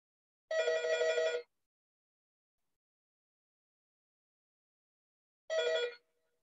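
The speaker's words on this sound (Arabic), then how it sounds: "ما علينا، التليفون مش عايز يقفل" A telephone rings in two separate bursts with a long silent gap between them: a sustained ring of about a second, then a shorter one, with no voices.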